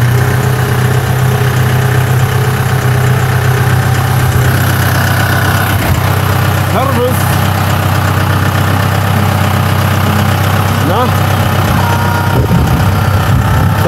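A Steyr 40 farm tractor engine runs steadily while driving, a loud low diesel drone with constant vibration throughout, no talk over it.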